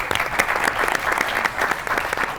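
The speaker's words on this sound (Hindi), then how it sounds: "बहुत सी ताली होनी चाहिए डॉक्टर साहब के लिए।" A studio audience at a Pakistani comedy talk show bursts into steady, dense applause for a visiting dermatologist, with many hands clapping at once in a continuous loud wash.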